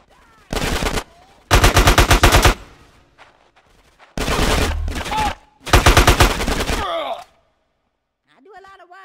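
Loud, close bursts of automatic gunfire from the video game GTA San Andreas during a gang war rattle out in four long volleys separated by short gaps, with a man's groan and brief shouts near the end.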